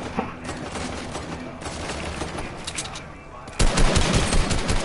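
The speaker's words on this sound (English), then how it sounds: "Start shooting him." Rapid bursts of gunfire in a shooter video game rattle on steadily, then a louder, denser volley breaks out near the end, with voices talking faintly underneath.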